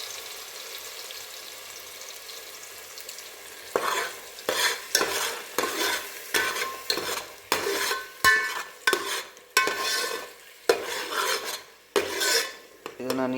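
Ground onion and garlic paste frying in a pan for a lake-fish curry: a quiet start, then rhythmic, loud scraping stir strokes with an underlying sizzle, repeating about every half second.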